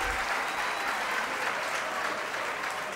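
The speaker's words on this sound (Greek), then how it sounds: "Ένα χειροκρότημα παρακαλώ." Steady applause from an award show audience at the 1993 Pop Corn Music Awards, a dense even patter of many hands clapping at once, filling the whole stretch without a break.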